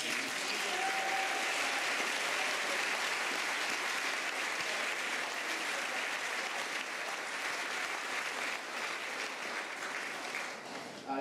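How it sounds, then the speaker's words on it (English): An audience at a boys' high school spring concert applauds with a steady, dense wash of clapping that carries on evenly for the whole stretch before easing slightly at the end. "I think year seven just deserve a round of applause if you're happy."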